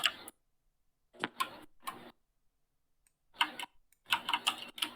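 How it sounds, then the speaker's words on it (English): Short bursts of keystrokes clatter on a computer keyboard, separated by silent pauses, close and fairly quiet, with no talking. "Okay, who's typing?"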